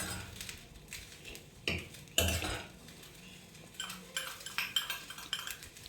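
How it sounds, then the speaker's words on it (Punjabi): Amla pickle being mixed with spices in a kadai gives scattered scraping and clinking of a utensil against the pan, sparse at first and then more frequent, with no talking. "ਸਾਰੇ ਮਸਾਲਿਆਂ ਨੂੰ ਚੰਗੀ ਤਰ੍ਹਾਂ ਮਿਕਸ ਕਰਨ ਤੋਂ ਬਾਅਦ ਆਪਾਂ ਇਹਦੇ ਵਿੱਚ ਆਮਲੇ ਪਾ ਦਾਂਗੇ ਉਹਨਾਂ ਨੂੰ ਵੀ ਚੰਗੀ ਤਰ੍ਹਾਂ ਮਿਕਸ ਕਰਾਂਗੇ"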